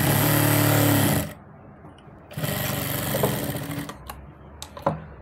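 Sewing machine stitching the hem of a readymade palazzo, running in a loud fast whirring burst, stopping, then resuming in a longer run with a few sharp clicks.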